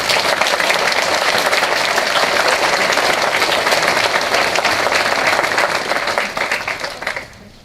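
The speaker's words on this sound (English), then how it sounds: "So if you would please give them a hand." Loud, dense applause fills a high school auditorium during a Veterans Day ceremony, sustained for several seconds before tapering off near the end.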